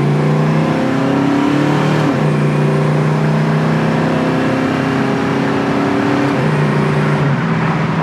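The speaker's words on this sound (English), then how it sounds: "nice sounding exhaust" A 1973 Ford Mustang Mach 1 Cobra-Jet with a Q-code 351 V8 and exhaust runs steadily at close range, a loud continuous engine drone with slight rises in pitch and no talking.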